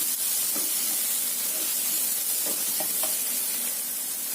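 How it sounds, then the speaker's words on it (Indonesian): Washed shrimp stir-frying in a pan for lobak cake, a loud steady sizzle and hiss with a few faint scrapes of a spatula over it. "Ini kita tambahkan sekalian udangnya yang sudah dicuci bersih ya. Tumis sampai matang."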